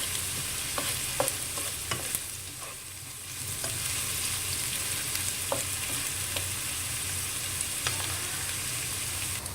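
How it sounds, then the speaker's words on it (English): Onions frying steadily in a pan for a sambal tofu dish, a continuous close sizzle and crackle with occasional sharp pops and stirring clicks, no voices. "we're going to cook these onions"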